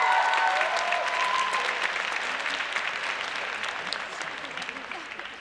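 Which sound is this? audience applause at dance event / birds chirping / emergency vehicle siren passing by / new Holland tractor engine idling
audience applause at dance event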